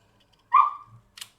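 A dog gives one short, sharp bark up close in a quiet room, followed by a faint brief rustle.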